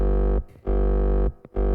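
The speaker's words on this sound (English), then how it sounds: "let's take a listen with just the distortion" A hardcore kick drum with only distortion applied booms out twice, each hit a long, loud, buzzing sustained tone that cuts off sharply.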